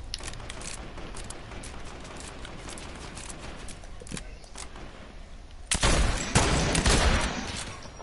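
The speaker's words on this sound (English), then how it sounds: "Now who the hell's shooting at me thinking that's smart?" Gunfire in a shooter video game: a steady low rumble of distant shots, then a sudden louder close burst of rapid fire that fades slowly.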